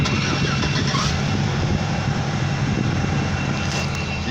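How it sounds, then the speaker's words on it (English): A 2005 Chevrolet Silverado 1500 Z71 pickup cold-starting, its engine a loud, close, continuous rumble that holds steady throughout with no voices. "I'm gonna go ahead and start this truck so you can hear it start."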